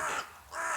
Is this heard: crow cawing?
yes